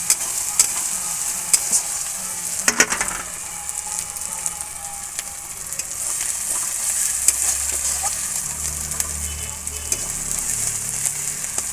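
Onions frying in oil in a pan while being stirred, a dense continuous hissing sizzle with scattered crackles and a few sharp spatula knocks near the start.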